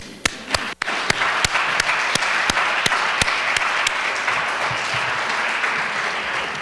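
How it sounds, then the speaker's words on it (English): Applause fills the room at the 2022 Al Dia Top Doctor awards event, a steady roar of many hands with one close, loud clapper striking in a regular beat over the crowd. "I would like to join me in applauding yourselves"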